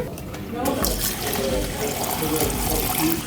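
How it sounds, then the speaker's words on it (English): Water runs steadily from a refill station into a water bottle, a continuous gushing fill heard close up against a busy background hum for the whole stretch. "And if you ever need a refill, just put your water bottle right here."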